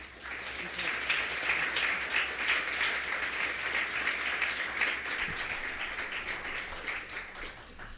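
An audience at an architecture lecture applauds steadily and warmly to welcome the speaker. The dense, sustained clapping fills the hall evenly and tapers slightly at the end.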